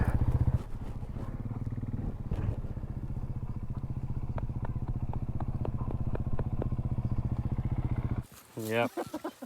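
KTM 500 EXC dirt bike idling and running steadily on an open rally campground track, a continuous near engine drone with a rhythmic pulse, cut off near the end by a brief burst of other noise.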